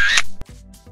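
A camera shutter clicks once, loud and close, with a sharp mechanical snap, then a quieter second click follows; brief faint voices sit around it.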